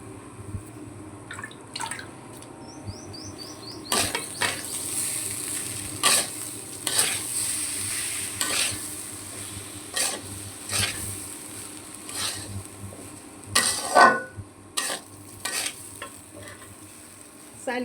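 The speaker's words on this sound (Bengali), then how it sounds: "চালগুলো ভালো করে ভাজা নেবেন।" Rice with salt, garlic, cumin and ginger paste being fried for pulao: a steady sizzle under repeated stirring scrapes and spoon knocks, close and moderately loud, with no talking.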